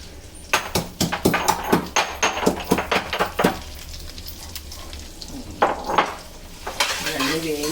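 Garlic cloves fry in oil in a pan for gongura pickle, sizzling steadily while a utensil stirs and scrapes in a quick rhythmic run of clinks, then pauses and resumes.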